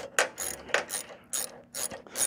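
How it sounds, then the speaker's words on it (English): A ratchet with a half-inch socket tightens a nylock nut, loud close bursts of rapid clicking repeated in about five strokes with brief pauses between them. "Half inch wrench, half inch socket."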